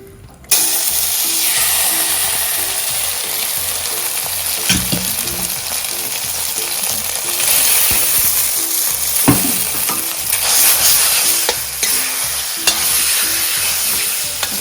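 Chicken stir-fries in oil in a very hot wok, a loud, dense sizzle running throughout with repeated stirring and scraping strokes close by.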